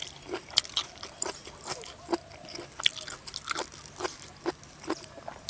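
Boiled pork intestines being chewed close up, with repeated crisp crunching bites coming in a steady rhythm throughout and no talking over them.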